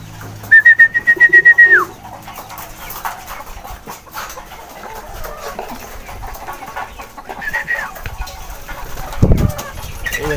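Homing pigeons coming back from a training flight, with a brief burst of rapid wing flaps near the start, then scattered soft bird sounds and rustling in the loft, and a low thump near the end.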